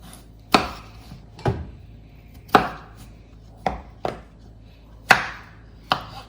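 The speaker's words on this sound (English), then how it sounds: "This one's a little bigger, so I'm gonna do it into thirds." Baby potatoes are cut into large chunks with a knife on a cutting board. There are seven distinct, close chops at an uneven pace with quiet pauses between them, and nobody talks.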